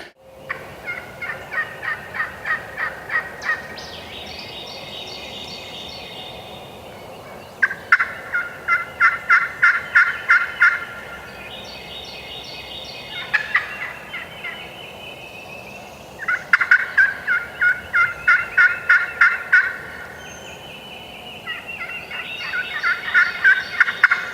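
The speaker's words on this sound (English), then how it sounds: "I couldn't tell if it was the gobblers or it was him calling. They were talking to each other so well." Wild turkeys gobble during a spring turkey hunt, with loud, nearby rattling gobbles coming in repeated bursts every few seconds, answering one another in an open outdoor setting.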